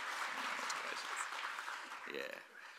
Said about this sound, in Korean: 다시 한번 큰 박수로 한번 격려 부탁드리겠습니다